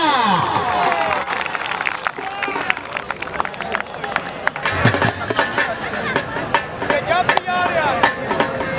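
Crowd applause at a Punjabi kabaddi match in Gondal Stadium, loud scattered claps and crowd noise running under someone talking loudly over a PA.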